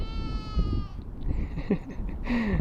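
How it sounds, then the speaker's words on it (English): Sheep bleat nearby at a campsite, a drawn-out wavering cry followed by shorter calls, over a busy background of rustling and low outdoor noise. "We have some sheepy neighbors at our Boondockers Welcome site"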